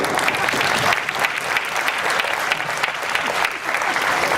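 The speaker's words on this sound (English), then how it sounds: "Give them a round of applause, by the way." Loud, dense crowd applause for the translators at a business presentation, continuous clapping throughout with a brief dip near the end.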